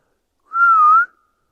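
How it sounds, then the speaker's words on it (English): A single clear whistle, steady and slightly wavering in pitch, lasts about half a second and stands alone against silence, heard in woodland in the Appalachian Mountains. "That was a whistle back."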